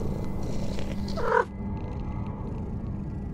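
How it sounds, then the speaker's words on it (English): A cat purrs in a video game, a steady low rumble under faint background sound, with a brighter chirp near the end before it drops away quieter. "Was that your cat or was that the cat in the game?"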